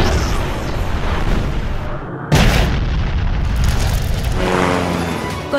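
Loud explosions rip through an anime battle scene of psychic attacks on Tokyo, a dense continuous roar of blasts with a sharp new boom about two seconds in, then sustained rumbling destruction.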